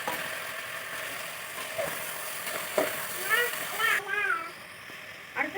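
Chopped tomatoes hiss and sizzle in hot oil in a pressure cooker while making tomato rice, a moderate frying crackle with a voice talking over it.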